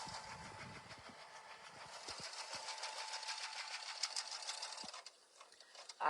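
A sewing machine stitches steadily, tacking down fabric appliqué pieces for small quilted mug rugs. The rapid even whirring runs for about five seconds, then stops and a few faint handling clicks follow.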